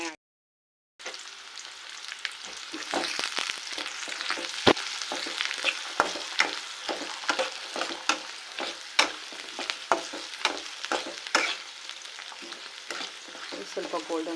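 Onion and chilli fry in a pan for bhindi palya, a steady close sizzle broken by frequent sharp scrapes and clinks of stirring, starting after a second of silence and continuing without voices.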